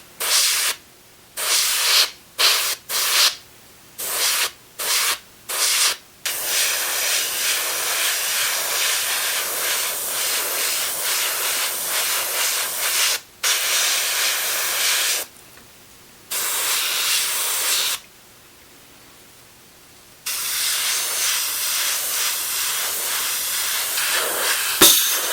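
An airbrush sprays RLM 74 paint onto a Bf 109G-6 scale model, a steady close hiss broken into short bursts and longer passes with silent gaps between.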